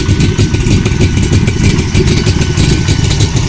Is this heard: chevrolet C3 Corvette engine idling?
yes